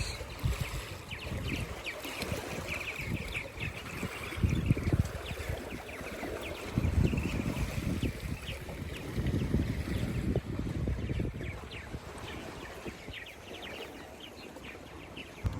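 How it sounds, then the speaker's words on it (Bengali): Strong wind buffets the microphone beside a large lake, with the rush and slap of big waves breaking along the shore, steady and loud throughout with heavier gusts. "বড় বড় ঢেউ বাতাস"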